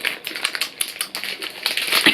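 A sealed Gucci lipstick packet being torn open with teeth: a close, irregular run of crinkly, crackling rips and snaps lasting a couple of seconds, with no talking.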